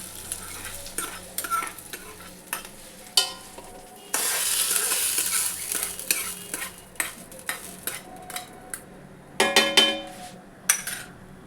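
Ingredients for basmati pulao go into a hot pan and hiss loudly in a broad sizzle, surrounded by scattered metallic clinks and scraping stirs of a utensil against the pan, close up and with no voices.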